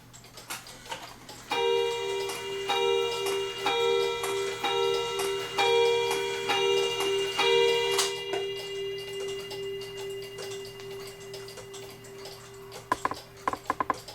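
A Linden Blacksmith clock made in Germany, fitted with a Cuckoo Clock Manufacturing Company movement, ticks steadily and closely over a sustained ringing tone that fades after several seconds, the even ticking carrying on alone.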